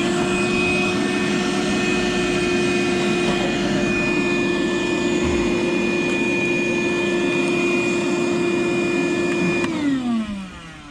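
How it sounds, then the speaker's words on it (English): A small DeWalt shop vacuum runs steadily with a loud, even whine and airy roar for about ten seconds, then winds down as it is switched off. "Got my little trusty DeWalt shop vac. Should be perfect size. We'll see if I can suck that sucker out."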